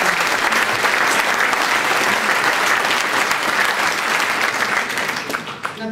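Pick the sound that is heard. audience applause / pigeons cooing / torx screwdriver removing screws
audience applause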